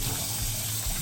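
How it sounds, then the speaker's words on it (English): Cold tap water runs steadily over soaked black-eyed peas in a strainer at a kitchen sink, a close, continuous splashing rush with no talking. "And I also like to rinse it with some cold water."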